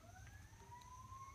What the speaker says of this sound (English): They're not playing with that siren. There's really a fire or something.